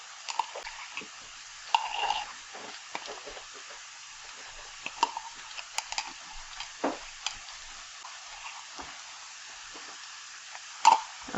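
A spoon stirs a cabbage stew with tomato paste, basil, garlic and oregano in a pot, soft scraping and scattered light clicks over a low, steady sizzle, close and quiet.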